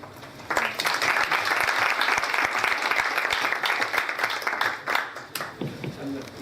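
Audience applauding to welcome a visiting professor to the lectern, a steady burst of many hands clapping that swells quickly, holds for several seconds, then tapers off near the end.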